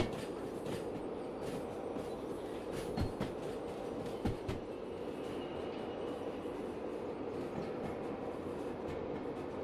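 A boxcar rolls along rails in a train video game, giving a low, steady rumble with a few sharp clacks.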